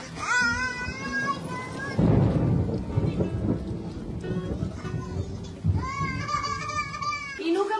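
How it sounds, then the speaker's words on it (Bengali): Thunder rumbles low and heavy beneath steady rain, with loud bursts rising mid-way, while children's and adult voices chatter over the storm and a child's high calls cut in at the start and end. "মেঘ ডাকছে বাবা, ভয় লাগছে না তোমার মা?"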